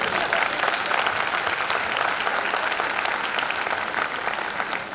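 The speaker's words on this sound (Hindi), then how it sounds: "ताली हो जाओ।" Audience applause at a motivational talk by IPS officer Sadanand Kumar, a steady dense clatter of many hands clapping together for several seconds, fading slightly at the end.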